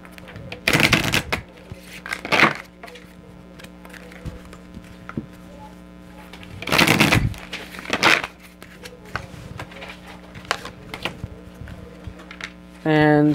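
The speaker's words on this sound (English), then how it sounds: "this deck, I'll give it a little shuffle." Tarot cards being shuffled in several brisk bursts, each a short riffling flurry separated by quieter gaps with faint background sounds.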